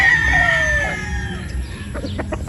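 A Boston Roundhead broodstag with a straight comb at a game farm crows in a long drawn call, then gives a few short clucks, loud and close with no talking.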